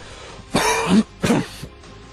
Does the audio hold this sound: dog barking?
no